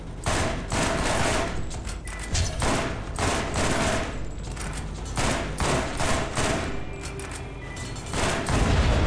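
Rapid rifle gunfire in Borderlands, bursts of shots in quick succession with booming impacts, loud and sustained with brief gaps between volleys.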